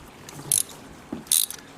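A ratchet socket wrench loosening a spark plug in the aluminium cylinder head of a Toyota Avensis: two short, close clicking bursts about a second apart, with a faint metallic knock between them.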